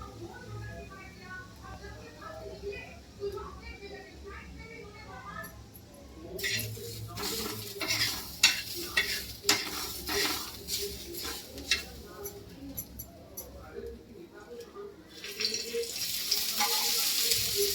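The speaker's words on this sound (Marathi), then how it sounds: "आता टाकणार आहे धने आणि मसाला, गरम मसाला संगती भाजणार आहे" Onions roast in oil in a pan with coriander and garam masala, a low sizzle that turns into a busier run of stirring and scraping strokes, with a voice talking over parts of it.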